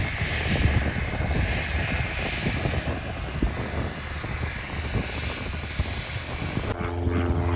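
A Cessna-type light propeller plane's engine roars steadily nearby during takeoff at Palomar Airport, a continuous droning buzz that holds throughout with a brief change in tone near the end.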